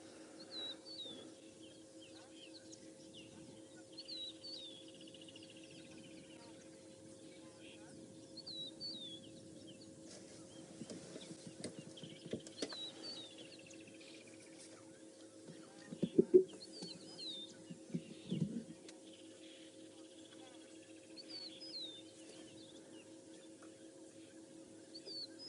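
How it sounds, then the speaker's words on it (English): Several birds call and chirp in the African bush on a morning game drive, with repeated high, light calls scattered through a steady low vehicle hum and occasional faint talk. "A whole host of bird life all of a sudden now."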